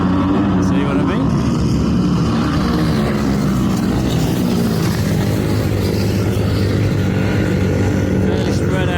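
Flat track racing motorcycles on the first lap at Scunthorpe, a continuous loud engine drone with layered revving from several bikes, under steady commentary.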